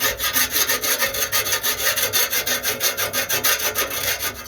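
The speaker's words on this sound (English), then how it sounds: "because cutting with the Sawzall and everything, right inside here, there's little burrs in there. And just take the file." A hand file rasps back and forth inside a steel exhaust pipe cut with a Sawzall on a Nissan Frontier, deburring the cut edge in about a dozen quick, even scraping strokes, close up with no talking.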